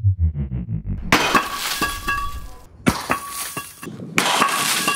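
Ordinary store-bought roofing glass shatters in a crash test, several loud smashing bursts with crackling, tinkling shards, after a brief low rumble at the start.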